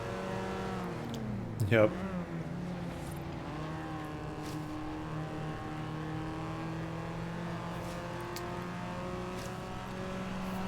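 A Lexus IS F with all-wheel drive driving in Forza Horizon 3, a steady engine drone with layered harmonic tones and one brief sharp sweep early on, someone briefly speaking over it.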